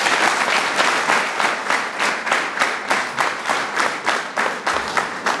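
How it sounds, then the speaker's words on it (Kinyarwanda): At a school's 27th jubilee celebration, a large crowd of students applauds the guests with loud, sustained clapping that settles into a steady, pulsing rhythm throughout, with no talking over it. "Mufashe tubahe amashyi"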